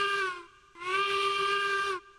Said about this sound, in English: Kind of a different sounding whistle.